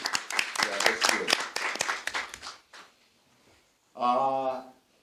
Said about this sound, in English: Maybe, you know, we should give them a round of applause.